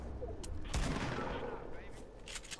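Gunshots in Fortnite: a few sharp, loud reports at close range, one heavier blast near the middle, over a busy game background with a voice briefly heard.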